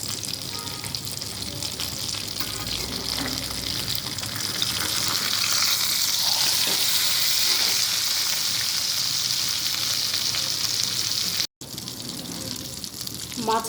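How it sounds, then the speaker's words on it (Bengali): Fish frying in oil in a pan over a medium flame after being flipped, a steady loud sizzle throughout with a brief drop near the end. "এখন আমি মাছটি উল্টে দিচ্ছি।"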